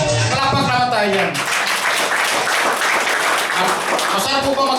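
A business presentation audience breaks into loud, continuous clapping that runs close and full under a voice speaking over it at the start, sustaining at an even level throughout.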